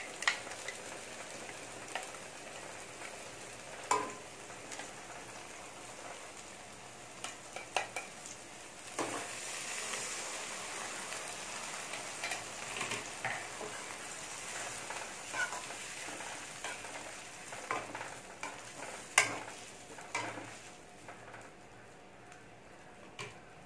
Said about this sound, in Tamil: எண்ணெயில் தாளிச்சதுக்கப்புறம் ஒரு நிமிஷம் அப்படி நல்லா வதக்கி விட்டுட்டு